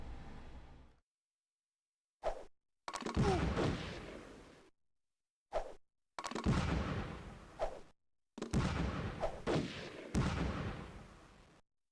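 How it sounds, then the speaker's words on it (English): Grenade and gunfire blasts in the Game Boy Advance shooter Ecks vs. Sever, several loud bursts of explosive noise separated by short silent gaps, each burst rumbling for a second or two. "Grenade."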